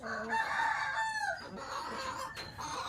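A Japanese Shamo gamecock crows loudly and close by, a long strained call, followed by scattered clucking and farmyard fowl noises.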